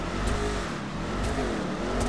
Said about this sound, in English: Already doing the afterfire.